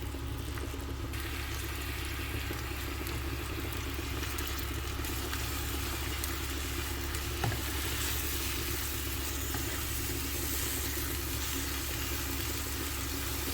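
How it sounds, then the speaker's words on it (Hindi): Four to five chopped onions frying in hot oil in a pan, a steady even sizzle that holds at the same low level throughout with no talk over it. "ये जो मैंने 4 से 5 प्याज काटी थी ये मैं इसके अंदर डालूँगी और इसको मैं लाइट ब्राउन होने तक फ्राई करूँगी"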